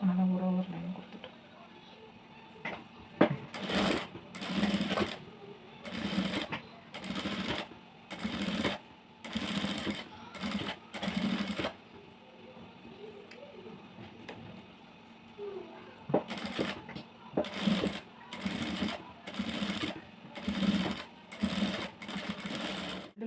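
A sewing machine stitches a line of lace onto a blouse in repeated fast mechanical bursts separated by pauses, while someone talks between and over the runs.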